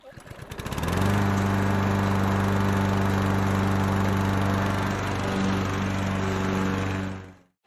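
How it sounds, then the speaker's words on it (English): A Cobra 40 volt battery lawn scarifier spins up within a second, then runs at a steady loud electric whir with strong motor tones as it works a lawn, before winding down and stopping at the end. "I'm going to be using this Cobra 40 volt battery scarifier to do a"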